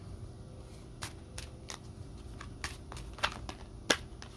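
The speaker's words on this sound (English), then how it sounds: "I like to shuffle on camera also." Tarot cards being shuffled make a series of soft, crisp riffles and flicks, irregularly spaced and close by, with the sharpest snap near the end and no talking.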